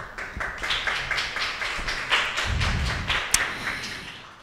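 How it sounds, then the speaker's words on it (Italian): Scattered, uneven clapping from a small audience at a gallery art presentation in Florence, with close individual claps, a few dull thumps and a low rumble partway through. "un applauso di benvenuto"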